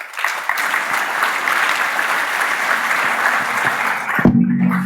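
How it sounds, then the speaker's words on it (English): Steady audience applause at a retail technology conference, loud and continuous for several seconds, then cut off abruptly near the end. "Guys, keep the applause going on"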